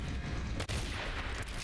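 A single pistol shot in the stealth video game Dishonored cracks out over a dense, steady wash of in-game ambience, followed by a brief drop in the background noise.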